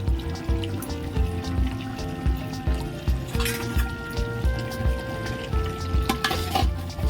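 Garlic paste frying with softened onion and tomato for a mutton curry, a steady sizzle with repeated scraping and stirring strokes in the pan, fairly close and continuous with no talk.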